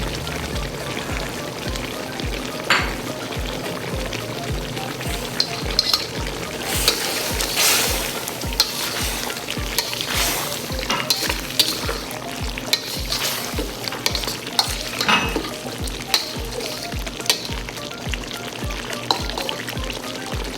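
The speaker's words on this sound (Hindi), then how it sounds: "चूल्हा नीचे आपने तेज़ रखना है और इसको मसाले डाल के अच्छी तरह से पकाना है।" Chicken and onion karahi cooked dhaba style over a high flame with spices: a loud, continuous sizzle broken by rhythmic scraping and stirring strokes in the pan.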